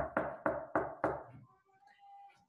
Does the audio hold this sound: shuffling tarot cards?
no